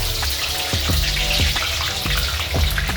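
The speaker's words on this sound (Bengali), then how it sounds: "প্রথম তো তেলটা গরম করছি, তেলটা গরম হয়ে গেলে এবার পেঁয়াজটা দিয়ে দেবো।" Onions dropped into hot oil fry with a dense, steady sizzle and crackle, with scattered sharp pops throughout.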